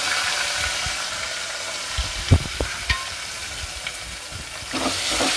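Chopped onions with green chilli fry in oil in a pan for tomato rasam, giving a steady soft sizzle with a few sharp clicks of a ladle stirring near the middle and end.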